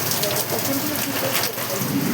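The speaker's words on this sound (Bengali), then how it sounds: "কত জোর বৃষ্টি নেমেছে, ঝড় উঠেছে তার সাথে" Heavy rain pours down during a thunderstorm, a dense continuous hiss of drops with a low rumbling undertone, steady and loud throughout the short stretch.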